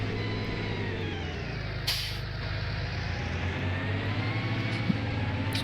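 The air brake pump on a tractor in Farming Simulator 19 kicks in, a steady mechanical drone with a low hum and a short hiss of air partway through.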